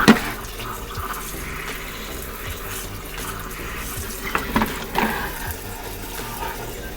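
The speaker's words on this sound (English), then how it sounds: "I'm gonna make sure to get fresh water rinsed inside of the mouthpieces, all the little nooks and crannies" Fresh water runs steadily from a tap as scuba gear is rinsed, flowing through regulator mouthpieces and over fin buckles, with a few small knocks and clatters of the gear near the end.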